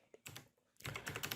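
Fast typing on a computer keyboard, close and distinct, with a short burst of keystrokes, a pause, then a longer, denser run of clicks.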